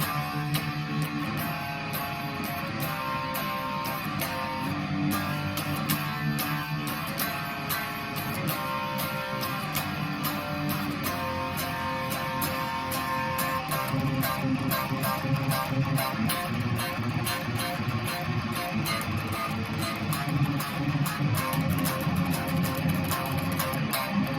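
Dense, continuous electric guitar playing the bridge of a song with a full band-like texture, steady and moderately loud throughout, no voices.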